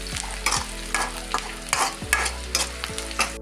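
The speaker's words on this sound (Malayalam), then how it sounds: "നമ്മൾ വെച്ച ചുവന്നുള്ളി വേപ്പിലൊക്കെ നന്നായിട്ട് ഫ്രൈ ആയി" Red shallots and curry leaves fry in a pan for a spicy red chilli chutney, a steady crackling sizzle broken by regular scraping stirs of a spoon against the pan, close and fairly loud, with no talking.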